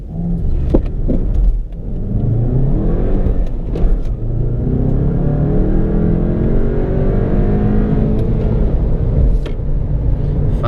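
A VW Jetta GLI MK7 pulls hard from standstill to 60 mph up a slight incline on cold tires, engine note rising steadily and loud inside the cabin with brief shift dips along the way.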